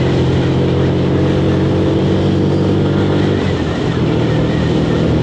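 A Lexmoto ZSB 125 motorcycle cruising along a country lane, its engine a steady, loud drone under heavy wind rush, with no change in pace and no talk.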